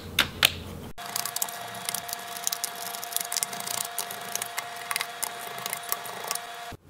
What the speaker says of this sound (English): then you can go ahead and remove the rest of the screws